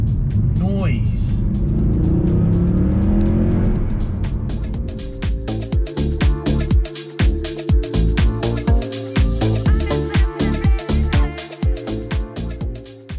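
A Range Rover Sport on the move gives a loud, close engine roar that builds, then breaks into a rapid series of sharp, rhythmic pops and crackles.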